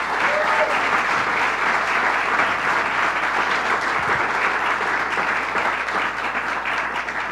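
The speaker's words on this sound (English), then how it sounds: "Let's give him a round of applause." An audience at a governor's announcement event claps steadily and loudly throughout, a dense sustained round of applause with no speech.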